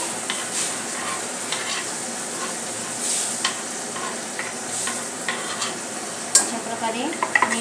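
Spice masala roasts in a pan with three large finely chopped tomatoes for a prawn biryani, sizzling steadily with frequent spatula stirs and a few light metallic clinks toward the end.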